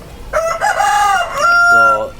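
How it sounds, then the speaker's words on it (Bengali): A rooster on a hill-area chicken farm gives one loud, close crow that rises and then holds a long drawn-out note, heard alone. "মুরগি"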